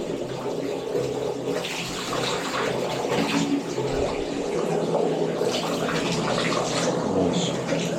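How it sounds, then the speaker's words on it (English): Hot water rushes steadily from a newly installed shower valve, a continuous broadband flow with splashing that holds at an even level throughout. "Get some hot water flowing."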